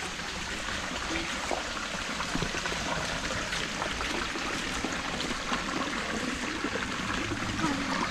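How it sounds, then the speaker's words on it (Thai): A small stream trickles steadily through a shallow rocky channel on a countryside farm trail, a close, continuous watery rush with no pauses and no talking. "เป็นลำธารเล็กๆ เป็นร่องน้ำเล็กๆ มาจากตรงนู้น"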